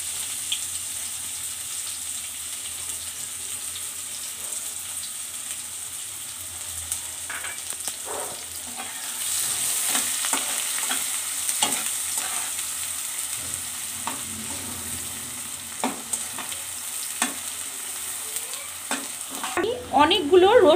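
Chopped onions sizzle and crackle in hot oil with whole spices in a pan for a fenugreek-leaf and potato dish, and a spatula scrapes and stirs at intervals, with a louder burst of frying near the end.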